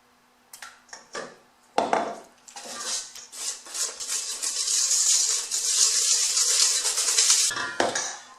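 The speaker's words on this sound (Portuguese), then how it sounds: "vou adicionar aqui os ovos um a um e mexendo devagar" Eggs being added to a jam-flavoured cake batter and stirred slowly, with a few clinks of utensil on bowl, then a steady, close rasp of mixing that continues for several seconds before a final clatter.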